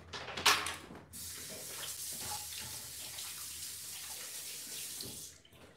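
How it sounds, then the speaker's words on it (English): Water running from a kitchen tap while hands are rinsed in a sink, a steady splashing rush after a brief sharp knock at the start, fairly quiet and close, ending as the tap shuts off. "Let me rinse my hands off real quick."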